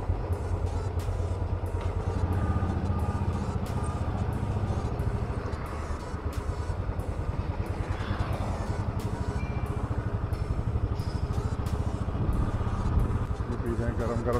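A Royal Enfield motorcycle with a slight vibration problem rides along, its engine giving a steady low thumping drone with rapid rhythmic pulses under continuous talking, plus road and wind noise.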